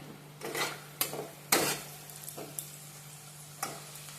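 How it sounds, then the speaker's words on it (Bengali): Onions frying in oil over a low to medium flame for Bengali egg curry, a soft continuous sizzle punctuated by several distinct spatula clinks and scrapes against the pan, no talking. "লো টু মিডিয়াম ফ্লেমে ভাজবেন যাতে বেশি কড়া না হয়ে যায়"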